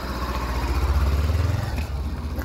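A Honda CB400X motorcycle engine runs steadily with a low, throbbing idle and slight rises in pitch, close and continuous, with no voices.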